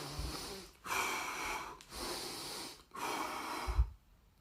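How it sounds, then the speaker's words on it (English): Steady rhythmic breathing during long-distance running, three long even breaths of roughly a second each, close and fairly quiet with a brief snort near the end, no talking. "I'm breathing in every 3 steps, and I'm breathing out every 3 steps."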